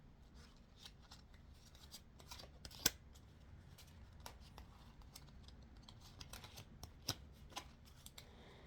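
Small romance cards being shuffled and handled by hand, a string of soft papery riffles and rubs with one sharper snap midway, close and quiet with no voice.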